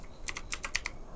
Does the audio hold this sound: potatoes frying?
no